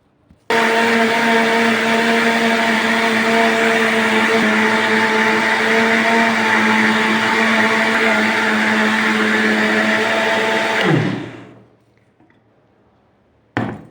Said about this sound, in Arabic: هسه نضرب البيض والشكر 5 دقائق ونرجع لكم، لان صوت الخلاط شوية قوي